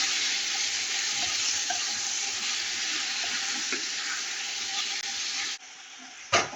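Tomatoes sizzle in hot ghee in a pan for an Arab fish-and-rice dish, a steady loud frying hiss that runs unbroken, then cuts off abruptly near the end with a brief clatter.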